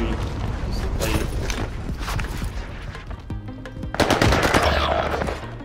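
Rapid automatic gunfire in Call of Duty Warzone on Rebirth Island, bursts of shots rattling nearly continuously with a denser, louder volley near the end.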